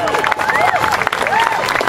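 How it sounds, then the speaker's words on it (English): Crowd applause and cheering for a speaker at a Boston Tea Party political rally, dense and steady, with voices and whistles mixed in throughout. "Come on, you can clap loud enough for Grover Norquist"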